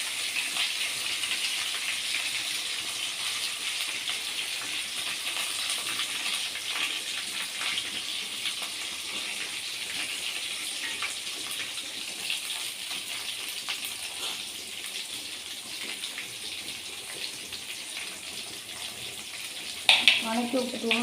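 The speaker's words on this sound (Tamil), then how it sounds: "ரைஸ் ஃப்ளேமில் வச்சுட்டு நல்லா வெங்காயம் பொன்னிறமாக வதக்கி விட்டுக்கலாம்" Onions sauté over a high flame in a pan, a soft steady frying hiss throughout with a brief clatter near the end, fairly quiet and without talk.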